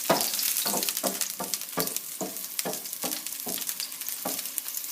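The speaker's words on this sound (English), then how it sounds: "Make sure your head's back so the oil's not spitting in your face." Garlic fries in hot oil, a constant bright sizzle broken by regular rhythmic scrapes of a wooden spoon stirring across the pan, close and fairly loud, with no voices.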